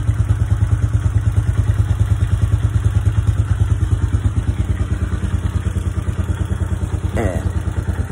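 A Hawk motorcycle engine idling right after an oil change with a quart added, a steady close rapid thumping beat with faint mechanical clatter, running alone without talk.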